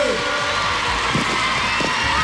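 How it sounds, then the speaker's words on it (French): A television studio audience cheers and applauds for a fan winner on stage, a dense, continuous roar of clapping and shouts with a few voices rising above it. "On peut applaudir Sylvie, gagnante du 22"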